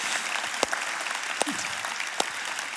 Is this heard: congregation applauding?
yes